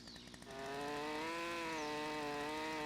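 Chainsaw cutting a log in the video game Lumberjack Simulator: a short idle, then the engine revs into a loud, steady high buzz that holds with slight pitch wavers, alone without talk.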